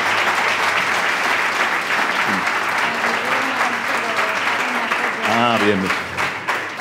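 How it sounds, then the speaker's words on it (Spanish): A large round of applause fills the room at a talk by Virginia Martinez of OSRM at the Sopa de Letras 2019 event, steady and loud throughout, with a host's voice speaking briefly over it near the end. "vamos a dar un gran aplauso a Virginia"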